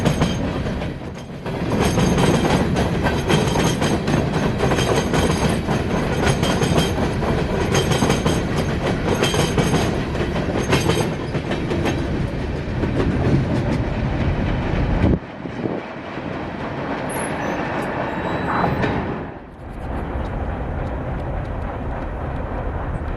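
A freight unit train rolls past on the Cartersville line, a loud, sustained roar of wheels and cars for about fifteen seconds, then dropping to a quieter rumble with a few brief squeals.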